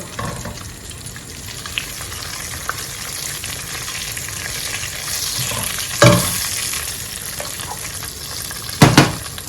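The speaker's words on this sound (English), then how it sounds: "Stir it in. This process is very important because you really want your curry powder to infuse in your oil." Curry powder sizzling in hot oil in a pan while being stirred for a tomato stew base, a steady, soft frying hiss with a couple of sharper scraping clinks from the spoon.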